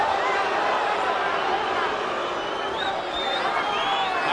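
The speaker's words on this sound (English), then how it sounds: "Pacquiao fans booing because they thought the punch was low" An arena crowd of boxing fans at the Pacquiao vs Marquez fight boos a punch they judged to be low, a sustained roar of jeers and crowd noise running throughout, mixed with chatter.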